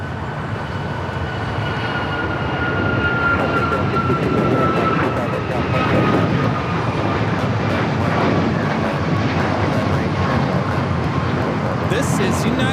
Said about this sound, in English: This is United Airlines 8169 taking off on a MAX 9 somewhere.